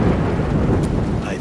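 Rain and thunder in the video game Road 96, a dense, loud rumbling wash of heavy rainfall and thunder filling the whole short stretch.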